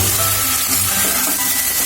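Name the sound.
ginger and garlic paste frying in oil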